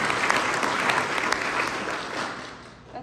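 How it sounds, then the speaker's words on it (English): Audience applause at a sheriff's public forum, a dense, steady wash of clapping from a crowd that gradually thins and softens toward the end. "Yeah, you can clap."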